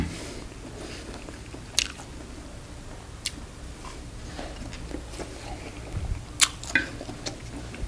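Grilled mala skewers from a roadside stall in Aranyaprathet are bitten and chewed up close, with a few sharp crunchy bites standing out over a steady low background hum.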